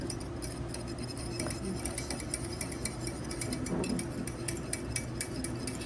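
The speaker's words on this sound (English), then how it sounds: "So Teresa's gonna just whisk that egg yolk a little bit." Egg yolk whisked in a glass bowl, a quick steady run of light metallic clinks and ticks against the glass, close and continuous, no talk.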